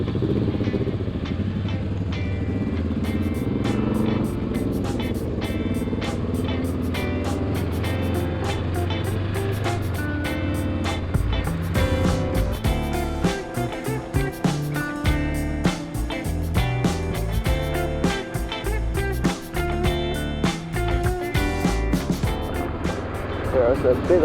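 A Honda CB500X motorcycle riding along an ordinary road in Zeeland, Netherlands, its engine droning steadily close up under strong wind rush, with revs rising and falling in gear changes partway through.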